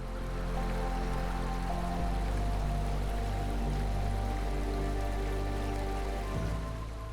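A waterfall fed by the Glidik river and waters from Mount Semeru gives a steady, broad rushing roar throughout, with music playing over it.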